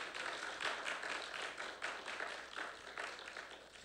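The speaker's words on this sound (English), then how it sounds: "If we could give him a round of applause." Faint, distant applause from a round table audience, a steady patter of many hands clapping with slight swells, no talking.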